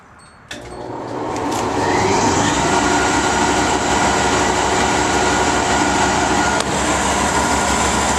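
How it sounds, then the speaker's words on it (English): An electric motor driving a 3-phase alternator starts with a click and spins up within a couple of seconds to a loud, steady whirring hum with a constant tonal whine, running evenly with no talking. "This is the motor and 3-phase alternator"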